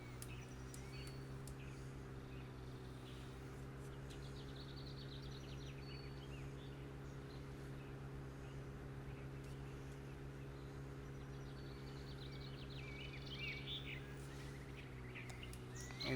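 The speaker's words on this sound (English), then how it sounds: "I don't know if you can hear the nice birds chirping in here." Faint, scattered bird chirps and tweets in Farming Simulator 17 sit over a constant low mechanical hum, the calls thin and distant throughout.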